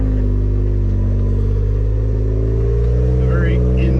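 An off-road vehicle crawls up rocks on a mountain trail with a steady, loud, low engine drone and gentle throttle changes, close up, with someone talking over it.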